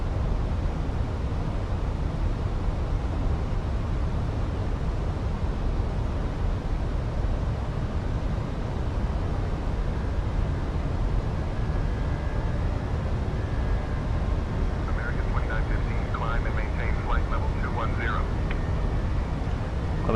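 Airliner engines at climb thrust in Microsoft Flight Simulator 2024, a steady, heavy low roar that holds unchanged throughout, with faint chirping sounds and voices toward the end.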